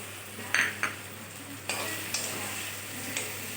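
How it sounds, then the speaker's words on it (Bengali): Fried pointed gourd pieces go into a pan of spiced gravy, giving a soft sizzle with a few sharp clinks of a spatula against the pan and some quiet stirring. "এবার আমি এখানে দিয়ে দেব ভেজে রাখা পটল"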